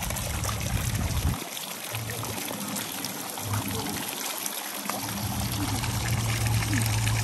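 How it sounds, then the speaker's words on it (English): Warm water from a steaming natural hot spring fountain trickles and splashes steadily close by, a constant liquid patter with a soft low rumble underneath, with a few faint voices in the background. "we're guessing this is a natural spring fountain just because of all the steam coming off the side of it"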